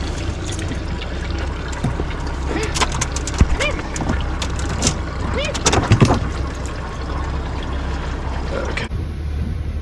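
Ranger Tug R27 boat cruising underway on Hood Canal, a steady low engine rumble with water wash and occasional knocks and creaks aboard, continuous throughout.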